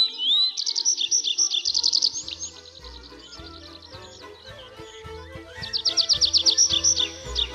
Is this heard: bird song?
yes